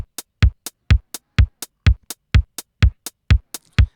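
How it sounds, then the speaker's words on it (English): A steady beat alternates deep kick drum thumps with crisp, short closed hi-hat ticks between them, evenly spaced and dry. "you would put a hi-hat, a closed hi-hat, or maybe a tight shaker on the and of each quarter note"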